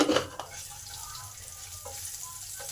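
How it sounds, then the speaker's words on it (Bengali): Chopped green chilli and white sesame seeds fry in a pan with a soft, steady sizzle, a brief louder burst at the start, close and without talk. "এই কাঁচা লঙ্কা কুচিগুলো একটু ভেজে নেব আর এক চামচ সাদা তিল এর সাথে দিয়ে দিলাম"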